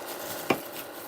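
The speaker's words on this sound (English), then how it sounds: "And I'm just gonna keep chopping this a little bit." A single sharp knife chop through an onion on a cutting board, one brief crisp thud over a quiet background hum.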